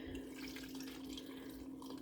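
Milk poured steadily into a Blendtec blender jar, a continuous close liquid stream running for about two seconds.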